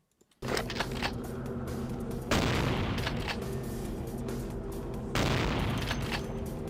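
Rifle gunfire in Vampire: The Masquerade – Bloodlines, loud sustained bursts starting abruptly after a brief silence, with two sharp louder onsets partway through, no talking.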